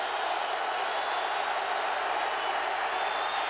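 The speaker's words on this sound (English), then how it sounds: "The crowd roaring" A football stadium crowd at an NFL preseason game between the Denver Broncos and San Francisco 49ers gives a steady, dense roar that holds at an even level throughout with no gaps.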